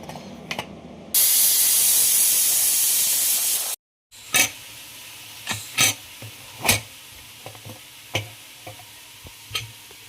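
A pressure cooker cooking jeera rice with milk lets out one loud, sustained hissing steam whistle for a few seconds, which cuts off abruptly and is followed by scattered light clicks and taps.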